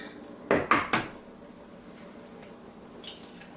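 Two eggs cracked into chocolate cherry cake batter in a Tupperware Stack Cooker bowl, heard as a few sharp close clinks and taps on the bowl in quick succession, then a faint tap a little later.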